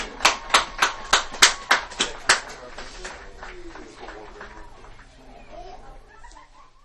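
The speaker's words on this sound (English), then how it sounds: "let's give one more huge round of applause to your Raider senior fall athletes" A high school football crowd applauds senior fall athletes with about eight loud, evenly spaced claps, then the sound trails off into a faint, fading patter of scattered hands and crowd murmur.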